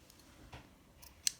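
Scissors snip through a bracelet cord with a single quiet, crisp cut in an otherwise still room, a faint clack coming just before.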